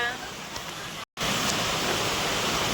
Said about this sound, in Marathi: आता आमच्या इकडे लय मोठा पाऊस आलाय लय मोठा